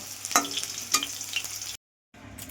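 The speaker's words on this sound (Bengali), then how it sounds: "কড়াটা গরম হয়ে গেছে, আমি একটু তেজপাতা দিয়ে দিলাম, কেটে রেখেছিলাম টমেটোটা দিয়ে দিলাম।" Bay leaf and chopped tomato dropped into hot oil in a pan, sizzling and crackling steadily with a few sharp pops, close up, then a brief cut to silence before the frying resumes.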